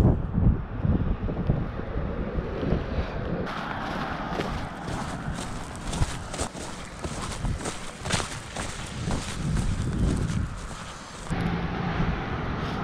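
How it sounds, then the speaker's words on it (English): Wind gusts buffet the microphone outdoors by a lake, a loud continuous rumbling rush with crackling bursts and occasional footsteps or shuffling. "Definitely better on this side with the wind at my back."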